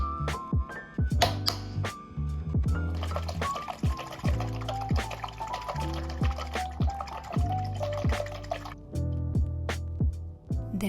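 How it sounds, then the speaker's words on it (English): Salad dressing pours and drips into glass jars nearby, with rising gurgling tones and light clinks of glass, a few pours one after another. "Then I pour the dressing into the bottom of each jar"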